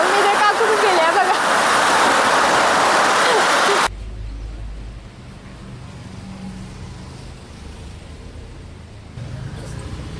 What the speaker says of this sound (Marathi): सगळ्या साईडने पाऊस पडतोय.